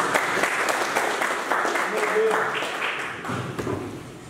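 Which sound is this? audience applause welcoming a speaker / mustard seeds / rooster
audience applause welcoming a speaker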